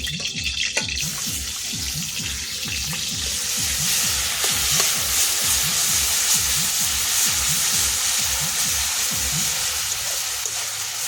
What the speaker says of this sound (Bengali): তেল গরম হয়ে গেছে, এটা কিন্তু আমি পেঁয়াজ বাটা আর রসুন বাটাটা দিয়ে দিচ্ছি